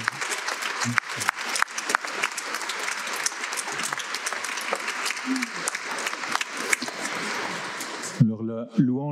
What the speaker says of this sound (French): Et on applaudit Jésus.